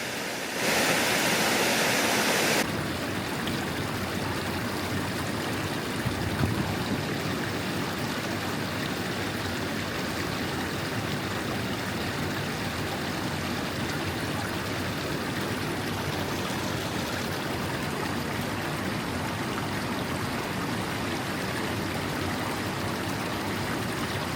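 River water rushes in a dense, steady roar that lasts throughout, loud and close with no voices, after a brief shift in tone at the start.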